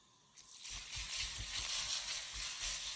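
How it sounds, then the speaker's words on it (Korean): Chili peppers frying in a generous pool of hot oil to make chili oil, a steady bright sizzle that bursts in after a brief quiet moment and continues loud and unbroken, with low spoon-stirring thumps underneath. "고추를 넣어서 요리 볶으면 고추 향이 올라와요"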